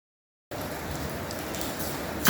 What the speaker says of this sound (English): And the rain just started to fall.